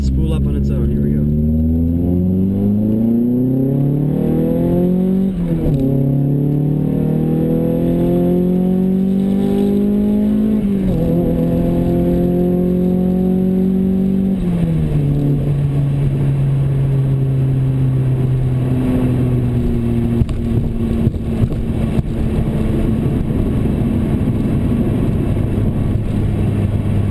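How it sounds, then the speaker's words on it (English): A turbocharged Nissan Silvia pulling hard in second gear, engine pitch climbing steadily in three long sweeps with brief dips at each shift, loud and close, with a high turbo whine above. "Alright, here we go in second gear. I'm gonna let it spool up on its own."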